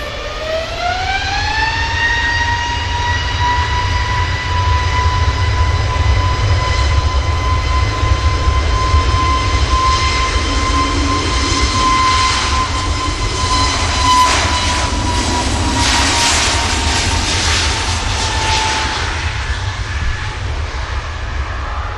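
KLM airliner's jet engines spooling up for takeoff at Manchester Airport, a loud sustained roar with a rising whine that climbs then holds steady over heavy broadband rumble, continuous throughout.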